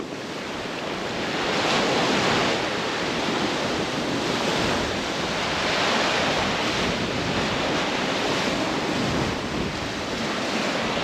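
Rough ocean surf breaking on a Kauai beach right below a hotel, a loud continuous roar of waves swelling and easing with heavy wind buffeting the microphone, no voices.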